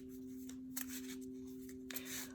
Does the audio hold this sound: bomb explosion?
no